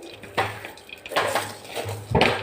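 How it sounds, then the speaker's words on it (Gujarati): A metal pot presses and clinks against dates and peanuts in a cooking pan, giving a few dull metallic knocks and scrapes spaced across the moment, close and moderately loud. "લોટાની મદદથી આપણે આ રીતે દબાવવાનું છે"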